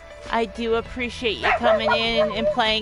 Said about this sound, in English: I do apologize for the dog barking in the background.